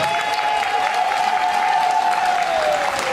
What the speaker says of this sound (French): Est-ce qu'on peut applaudir pour nos 4 familles